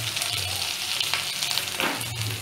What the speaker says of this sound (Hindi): गर्म है, इसको डीप फ्राई कर लेंगे।